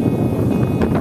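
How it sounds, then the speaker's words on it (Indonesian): Strong wind blasts across the Punggung Naga ridge on Mount Kelud, Indonesia, as a steady, loud, broadband roar buffeting the microphone close up, with gusts swelling near the end and no voices. "Angin menerpa begitu kencang."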